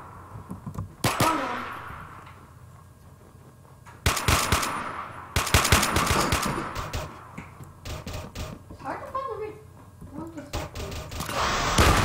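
Gunfire in a survival video game with a Thompson and a minigun: several loud bursts of rapid shots separated by quieter stretches where players talk.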